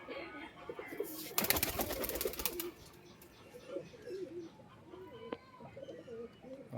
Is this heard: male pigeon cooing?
yes